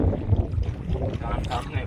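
Wind buffets a small fishing boat out at sea while crabbing nets are hauled, steady blustery rumble and water wash over the whole stretch, with muffled voices underneath.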